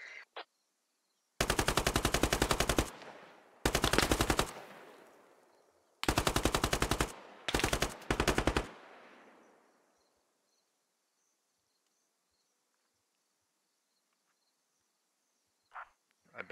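Machine gun fire raking a tree line in the military shooter game Squad: several long, loud automatic bursts with trailing echo, separated by pauses, then quiet with a couple of distant pops near the end.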